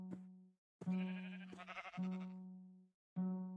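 Sheep in the Minecraft video game bleat several times in quick succession, the tonal wavering cries overlapping and rising and falling against a quiet background.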